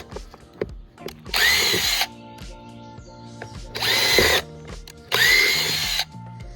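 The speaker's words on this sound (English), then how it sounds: "we're going to drill some holes on the edge." A power drill whirs loudly in three separate bursts, each about a second long, drilling holes along the edge of a DIY black soldier fly box, with quieter clicks and handling noises between them.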